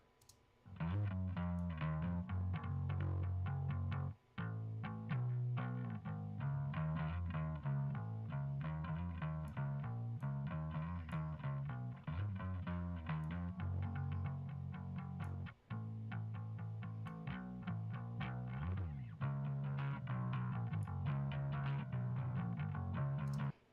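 A distorted electric bass plays a steady riff, with buzzing string noise and amp hiss running underneath and a couple of brief pauses.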